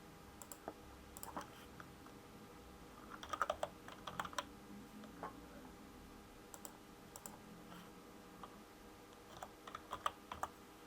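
Quiet bursts of typing on a computer keyboard as an animal's name, sex and coat colour are entered into a kennel club registration system, with soft irregular key clicks and short pauses.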